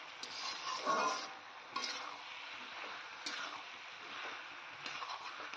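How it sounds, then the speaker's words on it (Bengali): Unripe and ripe fruit for chutney being stirred and fried in a pan, giving a soft, steady sizzle with faint scraping strokes, quiet and continuous with no talk. "এবার কিন্তু ভালো করে নেড়ে চেড়ে কিছুক্ষণ ভেজে নিতে হবে"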